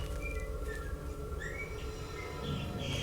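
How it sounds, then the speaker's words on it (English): A pet bird whistles somewhere in a room, short rising and gliding tweets scattered over a steady background hum from game audio, faint and with no talk. "I hear my bird."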